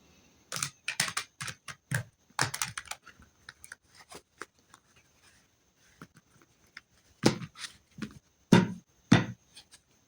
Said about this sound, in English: I'll go ahead and shuffle them a few times on camera.